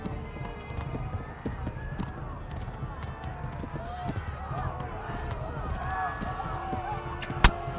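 Horse hooves clip-clopping at a run in the Kingdom Come video game, a steady near rhythm mixed with background game sounds and a voice talking over it, one sharp click near the end.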